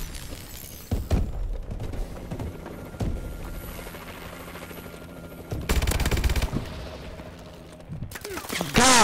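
SMG fire in Advanced Warfare, sharp bursts of rapid automatic shots at close range, broken by pauses and louder clusters, with an explosion-like boom and a voice talking in between.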